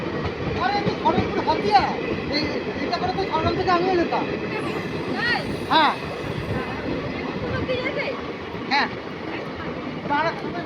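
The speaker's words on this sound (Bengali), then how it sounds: "ট্রেন যাচ্ছে বেগুনকোদা দিয়ে, কিন্তু ফাঁকা ট্রেন না" A passenger train runs past at Begunkodar in Purulia, a steady low rumble and rattle of carriages holding throughout, with several voices talking close by over it.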